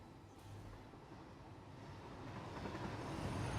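A train rolls through the factory-building video game Satisfactory, a steady rumbling rail noise that grows gradually louder over a few seconds, with no talking.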